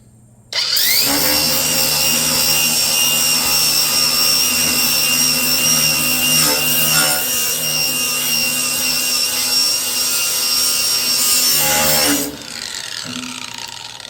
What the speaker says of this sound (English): So we got some 3/16-inch plate here, and I'm gonna use a flap disc.